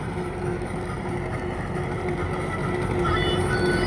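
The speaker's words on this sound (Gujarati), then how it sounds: "ટ્રેક્ટર ધૂંજ પાડે છે" A tractor engine roars steadily on a farm where pipes are being laid, a continuous low rumble with some wind noise and faint voices mixed in.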